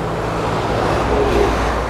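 A loud car roars past on a busy highway between Camarines Norte and Camarines Sur, Philippines, a steady broad rumble of traffic noise that swells briefly, fairly loud and close.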